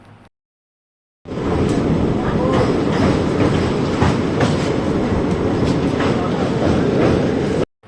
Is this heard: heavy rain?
no